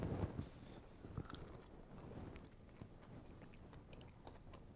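Crunchy chewing of a salad with goat cheese, spinach and strawberries at a farm: close, quiet, irregular bites and crunches at the start, fading into softer chewing with small clicks.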